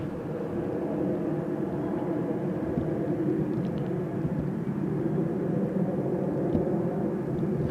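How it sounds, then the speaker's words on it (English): A KLM Boeing 777-300ER on landing approach to runway 18R at Amsterdam Schiphol Airport, a steady low engine roar and rumble that holds at moderate loudness throughout with no talking. "So coming in next is a 777-300ER, KLM Flight 736, coming in from Curaçao, Willemstad."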